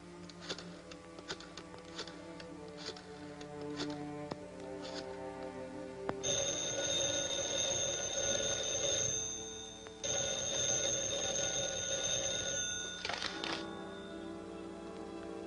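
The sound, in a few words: telephone ringing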